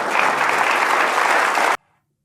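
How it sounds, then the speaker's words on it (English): Studio audience applauding loudly and steadily as a dense, even wash of clapping on a talk-show set, cutting off abruptly after under two seconds into silence. "the crowd goes wild"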